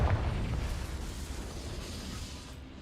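Confringo fire-blast spell in the Hogwarts Legacy game: a single loud explosive burst at the start that decays into a rumbling, fading roar over a few seconds.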